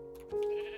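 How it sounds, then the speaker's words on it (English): A Minecraft sheep gives a single short bleat, clear and close, in survival mode, heard on its own with no talking. "Now, here's a sheep, which will give us some wool,"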